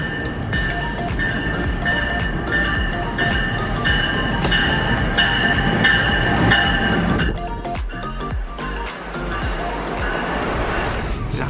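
A double-decker commuter train in New York rumbling along the rails with a steady loud clatter and some squealing, easing down and slowing near the end, heard from on board.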